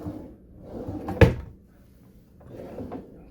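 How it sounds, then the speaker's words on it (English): Deep drawers in a cruise ship's AquaClass cabin slide and shut: a soft rolling glide, one sharp wooden knock as a drawer closes, then another quieter slide. "Beside that, you've got 3 quite deep drawers."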